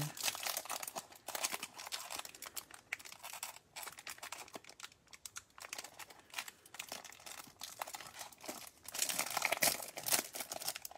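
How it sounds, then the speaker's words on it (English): Donruss football trading card hanger packs are torn open close up, with loud crinkling and tearing foil wrappers and card handling in uneven bursts, and no speech. "Looks like I might spend half the break just opening packs here."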